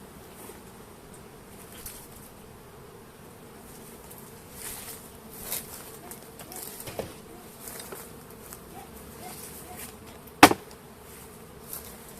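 Honey bees at a beehive in early spring hum steadily around the hive, a constant close buzz with individual bees passing nearby and one sharp knock toward the end, with no talking.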